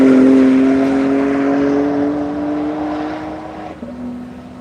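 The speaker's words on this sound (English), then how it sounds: "Ben Schott in the Team Rumspringa Porsche has gotten around Tim in his Porsche" Porsche race cars pass on a track in a long loud sweep, engines droning at a steady high pitch that drops as they go by, then a quieter car follows.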